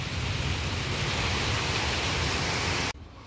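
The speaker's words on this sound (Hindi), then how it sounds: "खूब अच्छी बारिश हो रही है।" Heavy rain pours onto a balcony with plants, a loud, dense, unbroken hiss that cuts off abruptly near the end.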